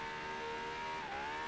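A car engine in Forza Horizon 3 holds a high, steady whine at full throttle, pitch dipping slightly then climbing again as it keeps revving.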